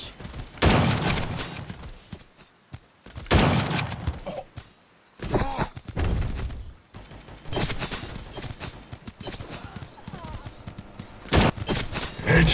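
Rapid bursts of automatic gunfire from the mobile shooter Guns of Boom, loud and close, firing in repeated volleys with short gaps, with game announcer calls between bursts.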